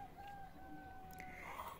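Chickens clucking on a highland village farm in spring just after being let out in the morning, steady faint background calls with occasional brief louder squawks and no talking.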